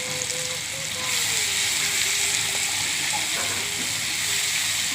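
Cabbage frying in a pan with onion and tomato, a loud continuous sizzle and hiss that swells after the first second, close by, with a faint voice in the background.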